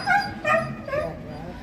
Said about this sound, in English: And then we've got this dog, and they're barking at each other.